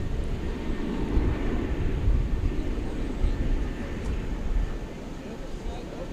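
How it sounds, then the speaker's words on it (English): A Boeing 777 airliner passing overhead near DFW Airport, a loud, broad low-pitched engine roar that holds steady and fades slightly toward the end. "That 777 just went by"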